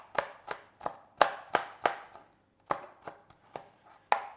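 A sharp knife dices food into small pieces on a cutting board for individual pizza strudel, about a dozen crisp close chopping strikes in an uneven rhythm with brief pauses between.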